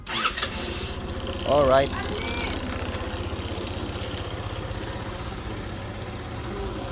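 An ER150N motorcycle engine, just repaired, starts with a short burst of cranking and then settles into a steady, close idle. Someone says a single brief word near the start.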